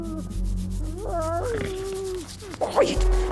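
A cat meows with rising, wavering cries over low background noise and rubbing sounds, close to the microphone.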